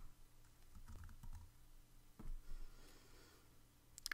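Keys clatter on a computer keyboard in a few short, quiet bursts of tapping, with faint background hum and no voices.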